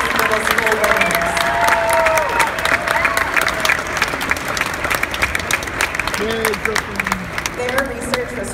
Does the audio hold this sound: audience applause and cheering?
yes